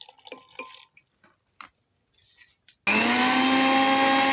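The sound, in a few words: electric grinder blending vegetables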